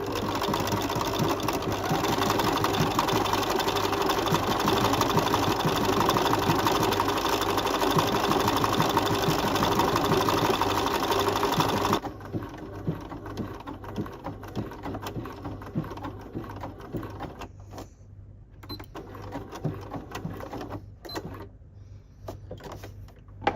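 A sewing machine runs steadily for about twelve seconds, stitching a decorated gift card holder with specialty thread, then stops, leaving only light handling clicks and quiet background noise.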